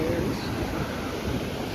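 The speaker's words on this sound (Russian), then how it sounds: "Ну и потому что волны, конечно, жесть какие большие" Large ocean waves breaking on the Chilean coast, a close, steady broadband roar of surf mixed with wind buffeting, continuous throughout without distinct individual crashes.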